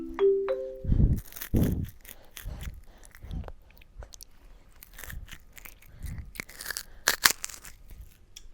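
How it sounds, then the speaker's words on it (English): Chips crunch loudly in big bites, with a few sharp crunches close up early on, then quieter chewing and smaller crunches. A brief tonal chime sounds at the start, and no one talks. "Do y'all hear them big bites?"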